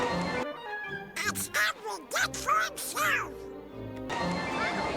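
Ducks quack in a short run of nasal calls at Disney's Polynesian Resort, close and loud against outdoor background noise.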